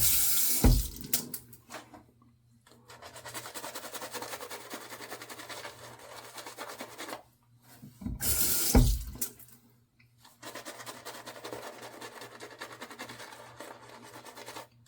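Water runs from a tap into a sink in two bursts, with quieter handling and rubbing sounds between them, close and moderately loud.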